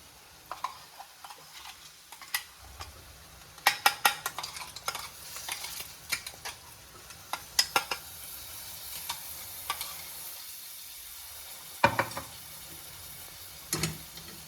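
Coconut paste roasting in oil, stirred in a pan: a faint low sizzle under repeated sharp spoon scrapes and taps against the metal, irregular and close.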